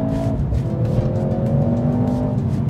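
A Mercedes-AMG C 43 4MATIC with a four-cylinder engine accelerating on an open road, a steady engine drone rising in pitch under load, heard from inside or close by with no talk.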